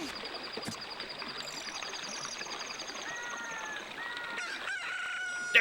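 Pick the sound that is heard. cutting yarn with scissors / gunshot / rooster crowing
rooster crowing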